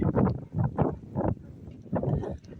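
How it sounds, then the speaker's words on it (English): Outdoor wind in Namibia on a gloomy day, gusting in uneven low rumbling bursts that buffet the microphone, with short lulls between gusts. "It's kind of windy and gloomy"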